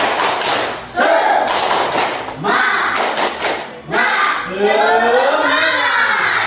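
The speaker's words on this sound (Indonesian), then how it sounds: "Tepuk semangat." A class of schoolchildren performs the rhythmic 'tepuk semangat' clapping chant, sharp group claps alternating with loud unison chanted phrases, close and energetic throughout.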